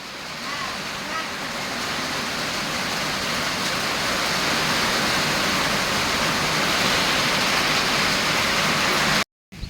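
Heavy rain pouring down outdoors while grass is being gathered, a loud, dense, continuous roar of falling water that holds steady before cutting off abruptly near the end.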